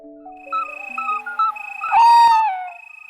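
An owl hoots among other tonal calls and whistles in a short, clean sequence, followed by a rising and falling whistled cry, all close and clear.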